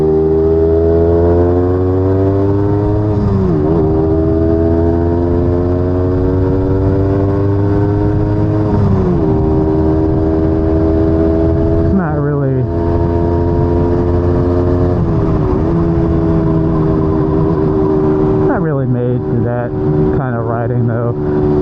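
A vintage Yamaha DT250 two-stroke motorcycle is ridden hard on a winding road, its loud, buzzing engine rising in pitch through the gears and dropping sharply at each shift.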